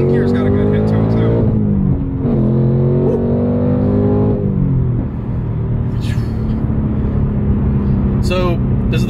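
A modified Ford Mustang GT with a Coyote V8 and X-pipe exhaust pulls hard through the gears from inside the cabin, a loud deep rumble rising in pitch and dropping at each shift, under people talking.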